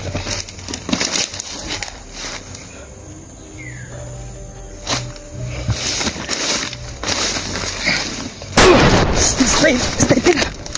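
Gunshots ring out in a shooter video game, a few scattered sharp bursts with a louder volley near the end, over insect-like ambient chirping and a player's voice speaking.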